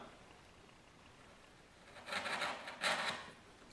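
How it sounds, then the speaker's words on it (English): A sharp chisel pares a chamfer on the corner of a wooden cutting board, giving two short, faint scraping strokes close by after a quiet pause. "you take a chisel, a sharp chisel, and you come in at the corner and you pare down."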